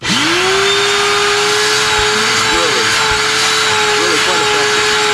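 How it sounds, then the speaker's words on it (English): Shop vacuum running through a Dust Deputy cyclone separator in a boat workshop, a loud continuous whine and roar throughout with someone talking over it. "you get your shop vac. It's hooked up to the dust deputy"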